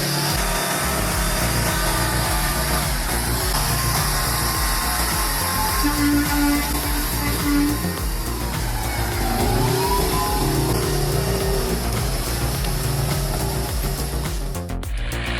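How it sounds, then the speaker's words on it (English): A heavy loaded wood truck engine roars continuously and loudly on a muddy road, rising and straining at times as wheels spin, with rumbling mechanical noise throughout and no talking. "The powerful engine roared, but the wheels kept spinning"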